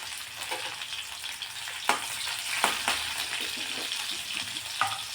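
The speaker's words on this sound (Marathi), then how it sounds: "आता तेल गरम झालं की यामध्ये बारीक चिरलेला लसूण टाकायचा त्याबरोबर हिरवी मिरची" Finely chopped garlic and green chili fry in hot oil, a close, continuous sizzle with occasional louder spatters and stirring scrapes, no talking.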